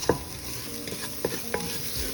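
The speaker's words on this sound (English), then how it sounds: "I'm gonna add a teaspoon of cumin here. Mix it." Cumin gets stirred into a frying pan over low heat, a faint sizzle under a handful of light scraping strokes of a spoon against the pan, close and quiet, no speech.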